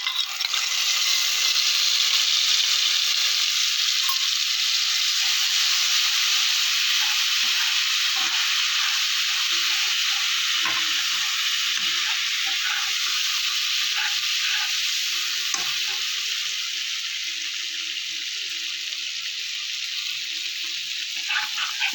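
Spice paste of ground coriander, cumin and Kashmiri chilli mixed with water, sizzling in hot oil in a pan for dhokar dalna: a steady, loud frying hiss with bright crackles that slowly eases over twenty seconds.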